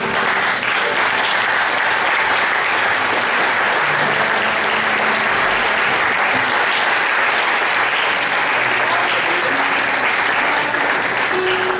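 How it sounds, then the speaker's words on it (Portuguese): Loud, sustained crowd applause at a church service filling the whole stretch, dense and unbroken, with faint voices mixed underneath. "fique de pé, aplaudindo a Jesus, aplaudindo a Ele"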